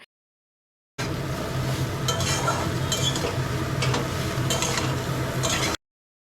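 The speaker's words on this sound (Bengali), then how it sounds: "ডাটাগুলো ধিমে আঁচে লবণ দিয়ে ঢেকে ঢেকে ভাজবো" Drumstick stems frying with salt in oil in a wok over low heat, a steady close sizzle with scattered scraping stirs and light utensil clinks throughout, no talking.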